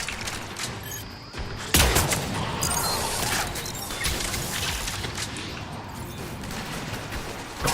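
Automated turret in Mass Effect 3 firing continuously, a dense, steady stream of rapid shots with a sharper burst near the start, mid-distance, no voices over it.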